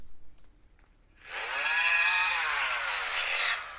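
After a quiet start, a chainsaw in the horror video game Mental Hospital V buzzes up loudly and holds a rough, high whine for about two seconds before easing off.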